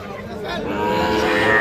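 A bull calf at a busy cattle market at Ambarihat, letting out a drawn-out moo that swells louder, with crowd chatter faintly underneath.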